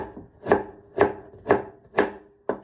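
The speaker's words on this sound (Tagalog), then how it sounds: "Medyo hiwain din natin siya sa maliliit." Knife chopping vegetables into small pieces for yakisoba on a board, five sharp, evenly spaced strokes about half a second apart, close and clear with no voices.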